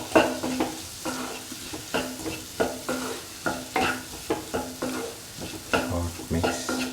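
A spoon stirs fenugreek powder through a hot mango pickle mix in a pan, making a steady rhythmic run of scrapes and knocks over a light sizzle, close and clear with no talking.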